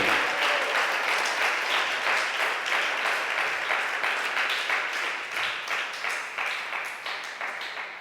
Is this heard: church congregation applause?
yes